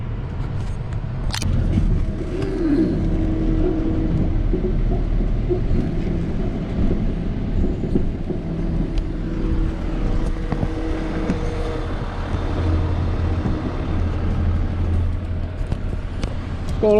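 A Ford truck rolls toward a junk car yard, a steady low engine and road rumble holding loud and close the whole way with little variation.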